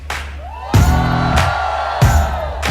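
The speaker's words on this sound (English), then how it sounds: "A big round of applause, ladies and gentlemen, to the panel on stage." An audience on stage at a panel event in Mumbai cheers and whoops loudly in two strong bursts, with the crowd noise carrying on between them and no speech over it.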